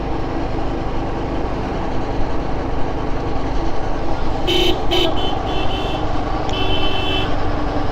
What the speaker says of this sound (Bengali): এই গাড়িগুলো কিন্তু প্রচুর শব্দ করে